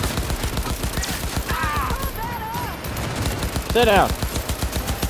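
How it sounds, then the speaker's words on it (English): Rapid automatic gunfire in the Cyberpunk 2077 Phantom Liberty video game, a fast, loud, steady burst of shots running throughout, with voices speaking over it. "They're shooting the hell out of me."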